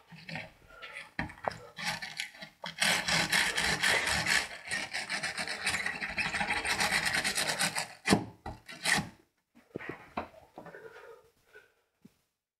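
A Sony Xperia J phone display, glass removed, being scratched hard in a crash test: loud, continuous rasping scrapes for several seconds, then a few shorter scraping bursts and scattered faint knocks before it falls quiet.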